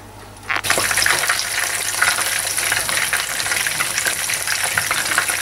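Squid pieces for salt and chilli squid hit a hot pan of oil and start frying at once, a loud, dense sizzle that holds steady with no talk.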